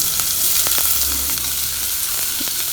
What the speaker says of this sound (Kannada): ಈ ಈರುಳ್ಳಿ ಸ್ವಲ್ಪ ಸಾಫ್ಟ್ ಆಗಬೇಕು ಅಲ್ಲಿವರೆಗೂ ಇದನ್ನು ಈ ಥರ ಫ್ರೈ ಮಾಡ್ತಾ ಇರಬೇಕಾಗುತ್ತೆ